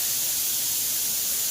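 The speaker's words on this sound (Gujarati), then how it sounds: "આ કુકરની સીટીને હમણાં જ વાગવું હતું." A kitchen pressure cooker lets off steam through its whistle, a steady, loud, broad hiss that holds unbroken from start to finish with no voices over it.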